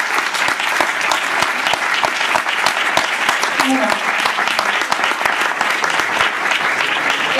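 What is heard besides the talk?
audience applause after a talk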